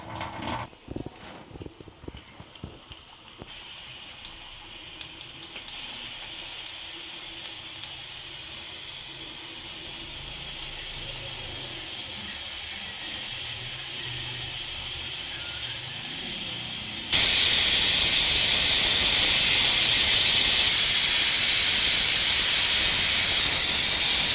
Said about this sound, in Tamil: இப்போ குக்கர் மூடி போட்டு இதை 6 விசில் விட்டுக்கலாம்.